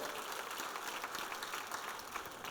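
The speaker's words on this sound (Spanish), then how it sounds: "Dale un aplauso fuerte al Señor." Congregation applauding in a church during a sermon, a steady dense wash of many hands clapping, moderately loud and sustained throughout.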